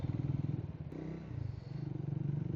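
A very nimble, lightweight motorcycle being ridden, its engine a steady close drone with a slight dip in the middle, with no voices.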